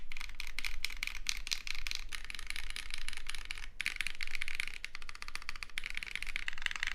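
Rapid, steady clacking comes from typing on a Sand Glass Ergo mechanical keyboard prototype, dense keystrokes close up with brief pauses and no voices.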